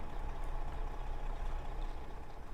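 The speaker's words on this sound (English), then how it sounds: "I hear your engine." A truck engine idles in American Truck Simulator, a deep steady low rumble with a slight uneven throb, close and continuous with no talk over it.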